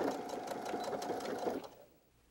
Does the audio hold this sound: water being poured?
no